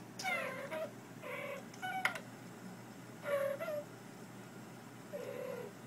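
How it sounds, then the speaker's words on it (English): A cat meows in short repeated calls from a talking cat video playing on a device, four or five distinct meows spaced across the stretch over a steady low room hum. "You want to watch the talking cat video?"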